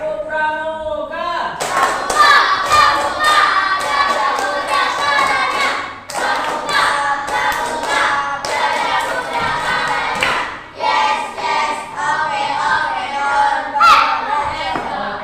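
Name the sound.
class doing rhythmic scout clapping (tepuk pramuka)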